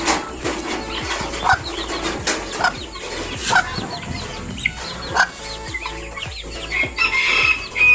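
Chickens cluck and squawk steadily nearby, with a rooster crowing and occasional wing flaps among the flock.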